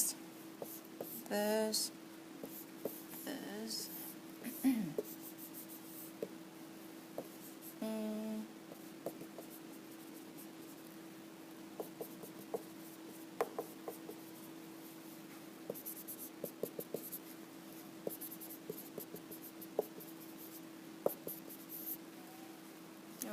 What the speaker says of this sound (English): let me draw the diagram first